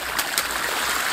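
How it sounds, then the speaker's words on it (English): River water surges through an opened siphon intake pipe, a loud, steady rushing flow with continuous splashing and no break across the short stretch. "It's coming. Another one, okay. Great. Oh my God, it's very strong."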